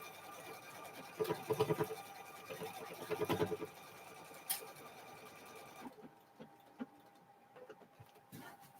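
A sewing machine quilting a cow-themed quilt gives short bursts of rapid stitching, two clear runs close together, then settles into quieter faint mechanical ticking with no voices.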